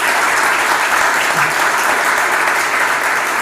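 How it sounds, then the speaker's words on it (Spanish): Loud, dense applause from a large audience at a Spanish-language awards ceremony, a steady unbroken wash of clapping that fills the whole stretch without any voices on top. "Y pido un aplauso por este motivo también para la universidad"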